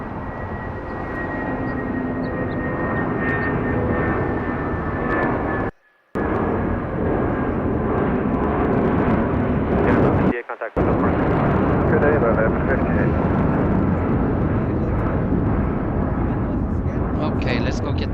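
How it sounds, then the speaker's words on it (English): An airliner roars down an LAX runway on takeoff, a loud, steady broadband jet rumble that holds for the whole stretch, with two brief dropouts and a faint whine near the end; voices talk over it. "this one's barely lifting off and they already cleared the next one for takeoff"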